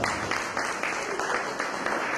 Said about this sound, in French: Applaudissons quand même la maman ce soir.